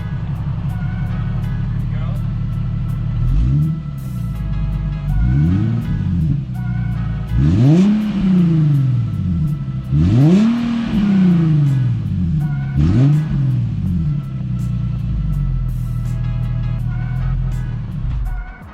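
An Infiniti G37 with a Beluga Racing axle-back exhaust, revved repeatedly from idle in several loud rising-and-falling blips over a deep, steady idle rumble, close by.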